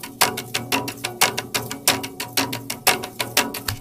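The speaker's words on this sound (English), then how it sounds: "at one point I sampled some crunchy string sounds with my brushes" Crunchy, scraping string sounds brushed in a live recorded loop repeat in a steady rhythm of short percussive strokes, close and fairly loud with no voices.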